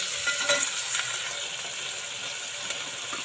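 Tomato cut into long strips fries in a pan, giving a soft, constant sizzle with light stirring scrapes and a few small clicks, close and moderately quiet.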